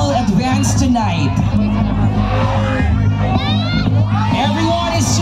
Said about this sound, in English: Everyone is cheering you on tonight.